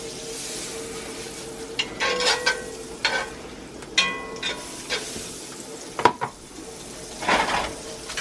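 Butter sizzles and fries in a cast iron pan while pancakes and eggs cook, a steady close hiss broken by repeated scraping and stirring clinks of a utensil against the pan.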